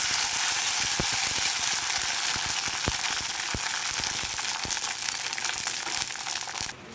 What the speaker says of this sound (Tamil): அதை தான் பொரிக்கிறேன் சாப்பாட்டுக்கு